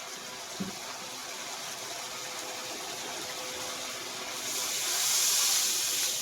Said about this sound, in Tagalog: maglagay na po tayo ng sabaw